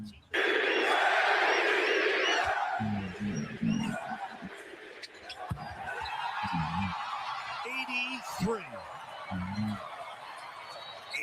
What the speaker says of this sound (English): He will come out of the game and hear it from the crowd.